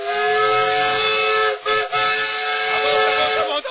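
A man imitates a steam train whistle with his voice, holding a loud, steady, hissing whistle tone for several seconds, briefly broken twice near the middle.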